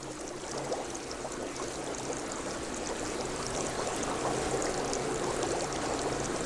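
Hot spring water bubbles and gushes out of the ground in a continuous rushing, splashing stream, steady and close with no voices over it.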